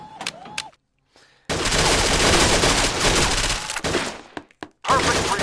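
Full-auto gunfire in a PS4 shooter video game rips out in a long, loud sustained burst lasting a couple of seconds, preceded by a few sharp clicks and followed by shorter stuttering bursts after brief pauses.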